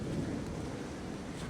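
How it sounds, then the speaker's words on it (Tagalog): Strong wind roars steadily against the microphone at the seaside in Palma de Mallorca, a continuous low rumbling buffet with no voices. "Kusog man sa kayong hangin."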